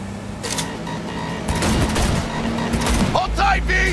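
Gunfire during a car chase in Cyberpunk 2077, a loud burst of shots over a rumbling engine, with shouting voices throughout and a heavy low roar swelling near the end.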